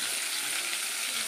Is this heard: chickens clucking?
no